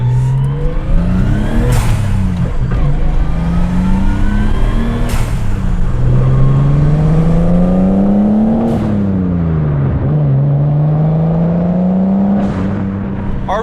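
A Nissan Skyline's mostly stock RB20 inline-six fitted with an RB25 turbo revs loudly and close, its pitch climbing through repeated rises and drops between gear changes, with no speech over it.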